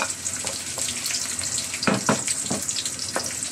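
Garlic sautéing in a pan for Bisayan-style pork humba, a steady close sizzle with a few scraping stir strokes over it.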